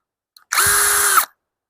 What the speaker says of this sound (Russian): Преимуществом же шуруповерта от фирмы Redwerk является то, что он является бесщеточным